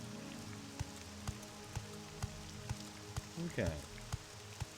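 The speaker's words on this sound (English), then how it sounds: "It's raining." Steady broadband rain hiss pattering in The Elder Scrolls 3: Morrowind, with faint periodic thumps and a brief voice partway through.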